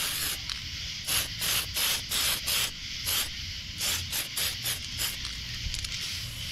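White base-coat spray paint goes onto a nitro RC buggy body in short, repeated hissing bursts, close and fairly loud, with uneven gaps between the spurts over a low background rumble.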